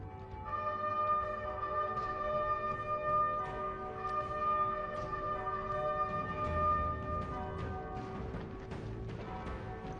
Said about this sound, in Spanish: Las cornetas y las campanas de las iglesias anuncian el cese al fuego.